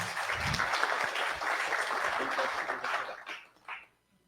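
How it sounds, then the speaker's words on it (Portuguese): An audience claps together at a developer talk, dense and fairly loud, and keeps it up for about three seconds before it thins into a few scattered claps and dies away. "Palmas para ele."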